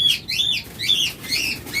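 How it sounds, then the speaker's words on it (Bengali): Doves and other caged birds call in a bird-selling setting with repeated loud chirping, squawking calls in short bursts, close by with no talk. "প্রথমেই ঘুঘু পাখি দিয়ে শুরু করি দেখুন"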